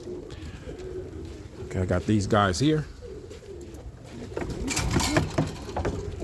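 Pigeons coo in a loft, low throaty calls rising in a brief loud burst and then softer, while someone talks nearby over the birds.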